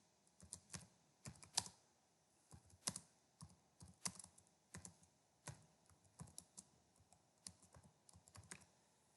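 A computer keyboard is typed on while text is entered in AutoCAD, producing quiet, close key clicks in uneven bursts that run throughout with no talking.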